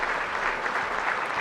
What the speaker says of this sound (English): may I request the audience to just give us 2 rounds of applause